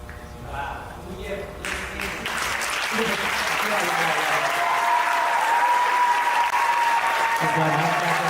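Applause swells from an audience after a business pitch, building from quieter moments with talk and tones into a full, sustained round of clapping that continues to the end.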